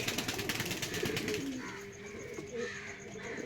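Several adult Matraj pigeons coo close by, soft rolling warbles rising and falling against a faint rustling background, with no voices over them.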